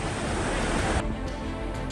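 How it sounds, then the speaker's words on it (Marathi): After heavy cloudburst-like rain the flooded Dudhna river in Badnapur taluka runs brimful. Its roar is a loud, steady broadband rush that thins slightly halfway through, with no voices. "दुधना नदी सध्या दुथडी भरून वाहते।"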